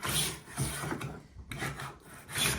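A Stanley No. 48 hand plane cuts a tongue and groove joint in wood, making repeated rasping strokes that shave the board, close and fairly loud, with a brief pause midway.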